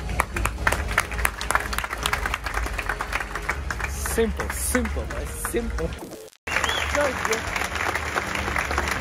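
Audience clapping at the Ballon d'Or ceremony comes as sustained applause from a large hall crowd, with someone talking over it nearby and a brief cut to silence before the clapping resumes.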